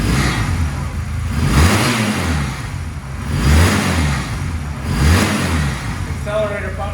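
A Honda Rebel 250 motorcycle engine revved repeatedly while stationary, three rising and falling throttle blips over a steady running note, loud and close.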